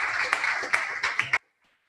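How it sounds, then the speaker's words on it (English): An audience claps briefly for trustee candidates at a debate evening, a short burst of close, fairly sparse clapping lasting just over a second before cutting to silence. "let's have a round of applause for all the trustee candidates."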